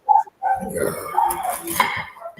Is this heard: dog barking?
yes